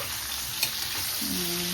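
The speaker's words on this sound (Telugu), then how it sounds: "ఇలా మూత తీసి కలుపుకోండి" Ivy gourd masala sizzles steadily in a pan while being stirred, with a couple of light metallic clinks over the continuous frying hiss.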